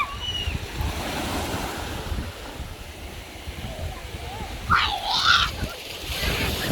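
Strong sea waves surging onto a beach in Chanthaburi, Thailand, a rolling roar of surf with gusty wind buffeting the microphone, swelling louder near the end while people talk and a voice rises in the background.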